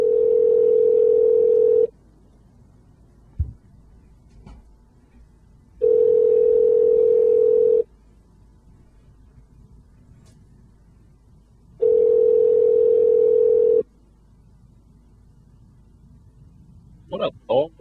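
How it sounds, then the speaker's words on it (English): Outgoing call ringback tone heard as three steady two-second tone bursts spaced about four seconds apart, loud and clear, with quiet room noise and brief voices in the gaps. "All right, it's ringing."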